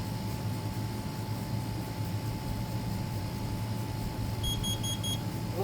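During a smoke alarm system test, a carbon monoxide alarm lets out a quick run of four short, high beeps near the end over a steady background hum.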